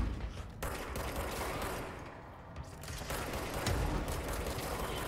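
Gunfire in the video game Control, including shotgun blasts from an enemy at a distance, comes as a dense, continuous barrage of shots and mechanical clatter at moderate loudness.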